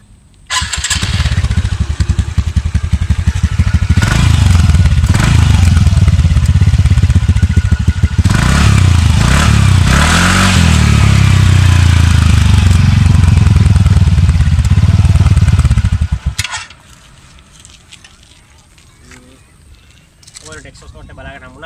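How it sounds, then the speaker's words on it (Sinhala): A TVS Ntorq 125 automatic scooter's exhaust runs loud and close at a steady, throbbing idle for about sixteen seconds, then the engine cuts off, leaving a much quieter background. "අපි දැන් මේ එක්සෝස් නෝට් එක බලමු"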